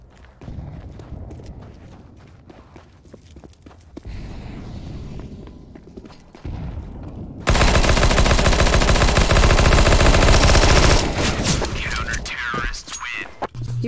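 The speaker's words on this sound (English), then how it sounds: "Throwing a grenade." Gunfire and a grenade blast in a CS:GO competitive match: scattered shots and footsteps, then a sudden loud sustained burst of explosion and rapid fire that gradually fades, with faint game voices early on.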